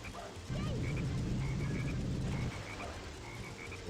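Black frog croaking in a 3D Sonic video game, a deep loud croaking drone in the foreground for about two seconds over chirpy game background sounds.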